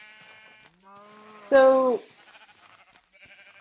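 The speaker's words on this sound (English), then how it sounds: "this is where all the colored sheep are" Sheep bleat in Minecraft: a few short, wavering baas, the middle one loud and close, with a person talking briefly nearby.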